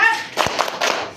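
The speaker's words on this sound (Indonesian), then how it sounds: "kita tepuk semangat dulu yuk" Children in a classroom do the tepuk semangat clapping chant, a short burst of several sharp group claps in a quick rhythm with voices mixed in, fairly close and loud.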